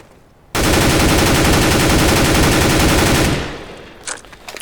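A silenced weapon in CS:GO fires one long continuous automatic burst, loud and close, lasting about three seconds before cutting off, followed by a few faint clicks.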